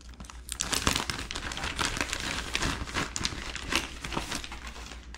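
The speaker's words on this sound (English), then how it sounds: "Now let me peel this out of the bag real quick." Thin polarizer film sheets, two layers, are peeled out of a crinkly plastic bag during a 1990s Ford LCD gauge cluster repair, giving close, continuous crumpling and crackling rustle with no talk.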